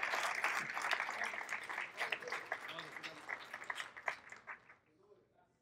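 Congregation applauding during a church service, a scattered wash of clapping that swells and fades out, heard faint and somewhat distant with some voices mixed in.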